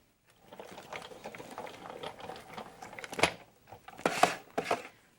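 Sizzix die-cutting machine feeding fabric through a die for a doll jumper dress, giving a quiet run of soft mechanical clicking and rolling, then a few sharper crunching bursts near the end, up close.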